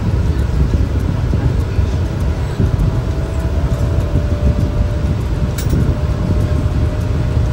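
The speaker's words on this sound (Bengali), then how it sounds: "এদিকে ট্রেন চলে এলো" A crowded Sealdah local train pulls into a station, a steady, loud rumble of wheels and carriages that fills the whole stretch without a break.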